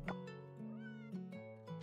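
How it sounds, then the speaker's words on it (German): A cat in the farming video game Coral Island gives a drawn-out meow, clear and close with no talk over it, followed by a softer second call. "Oh, das ist eine Miezekatze."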